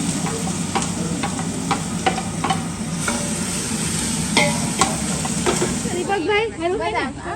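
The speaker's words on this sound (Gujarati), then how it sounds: "હવે આપણે જે ચોપ કરી હતી ડુંગળી એને આપણે હવે નાખી દઈશું." Chopped onion tipped into a pan of frying spices, setting off a steady loud sizzle and hiss with repeated stirring scrapes, and a voice speaks briefly near the end.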